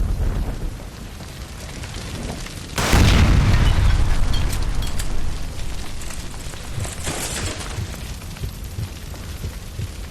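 A gas line explosion in L.A. Noire erupts as a sudden deep boom over steady background rumble, then a long roaring rush that slowly fades.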